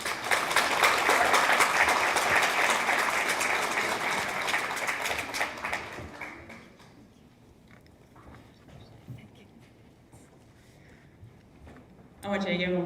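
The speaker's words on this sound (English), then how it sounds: "I want you to give them one more round of applause." A ceremony audience claps steadily and loudly for student leadership award recipients for about six seconds before the applause dies away into room noise, and a voice briefly starts speaking near the end.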